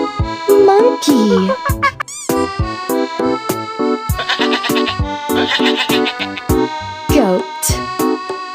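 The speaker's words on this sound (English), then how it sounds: "Goat." Goat bleating in short repeated bursts over a bright, upbeat children's tune, loud and up front between rhythmic musical notes.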